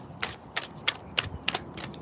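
Tarot cards being shuffled by hand, a series of sharp riffling snaps at irregular intervals, about six or seven crisp bursts close up with quiet gaps between.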